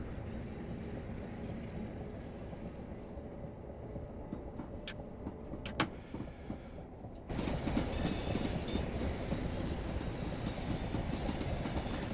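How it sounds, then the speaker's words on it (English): A quiet electric train runs in the Train Sim Classic video game on the Chatham Main Line, giving a steady, low rumbling drone with a few faint clicks, which grows noticeably louder and brighter about midway. "That's the only problem with these really quiet electric trains"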